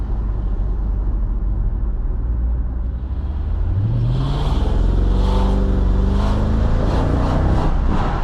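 A supercharged Mercedes-Benz CL55 AMG accelerates at half throttle to about 70 km/h, heard from inside as a loud, steady engine drone whose pitch climbs smoothly through the gears over road rumble.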